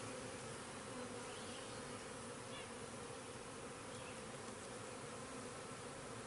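Honey bees buzz around an open hive during an inspection, a dense, steady swarm drone close by with no talking.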